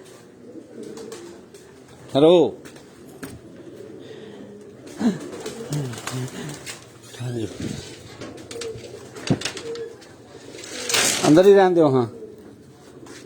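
Tournament-flying migratory pigeons coo in a few short bursts on a rooftop, rising, falling calls near the start and end, with voices talking throughout and some light shuffling in between.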